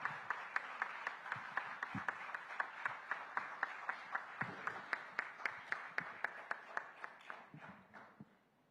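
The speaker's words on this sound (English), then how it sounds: "Can we have a huge round of applause for Sir" Rhythmic clapping at a steady, even beat of about four claps per second, continuing throughout and fading slightly at the end.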